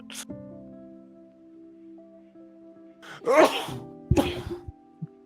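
A sharp, close sneeze bursts out over quiet lofi background music during an online game-developer community chat, followed a moment later by a second, shorter sneeze-like burst and a faint breath.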